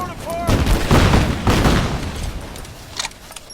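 Gunfire from Rise of the Tomb Raider, a loud burst of rapid shots and booms that spreads over a couple of seconds, then fades to scattered cracks. Shouted voices mix in.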